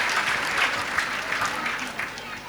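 A church congregation claps together in sustained, even applause, moderately close, with no voices over it.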